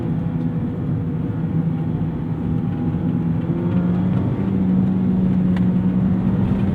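A 2024 Mazda MX-5 Miata ND3 on track-oriented wheels and tires drives along a canyon road, its engine drone and road rumble steady and loud throughout, swelling slightly toward the end.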